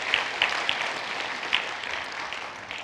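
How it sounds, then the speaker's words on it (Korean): A church congregation applauds to welcome a pastor during a year-end service, giving steady, moderately loud clapping with a few sharper claps on top. "우리 박수로 환영해 주시고 감사합니다."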